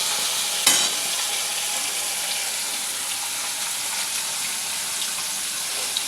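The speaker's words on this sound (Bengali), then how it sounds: "এই মাছগুলো আমি একটু হালকা ভেজে নেব" Fish fries lightly in a pan, giving a steady, even hiss close by with one brief sharp crackle near the start and no voices.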